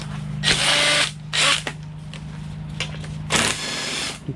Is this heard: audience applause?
no